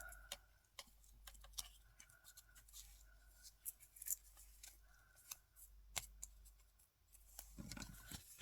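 Scissors cutting paper for an autumn-themed art collage card, a run of quiet, close snips and clicks in an irregular rhythm with short pauses between cuts.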